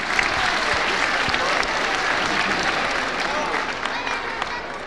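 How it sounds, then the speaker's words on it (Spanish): A crowd of schoolchildren in Tarija applauding at a school inauguration, loud, dense clapping mixed with voices and cheers, sustained close up for several seconds. "Un aplauso al que más gritaba."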